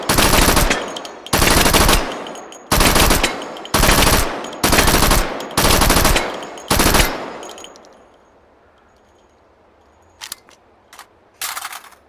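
Gun hip-fired in the game Hot Dogs Horseshoes & Hand Grenades: seven loud, close bursts of rapid automatic fire separated by short gaps, then quiet with a few faint clicks and small sharp sounds at the end.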